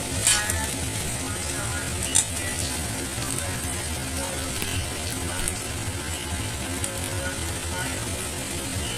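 Masala frying in a pan for matar paneer, steady close sizzle with scattered clinks and scrapes of a utensil, one sharp tap as ground spices go in.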